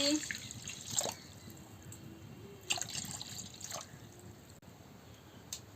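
Water is poured into a kadai on a lit village stove while cooking a cabbage and poppy seed curry, a faint splashing trickle with a few louder splashes and drips, under quiet talk.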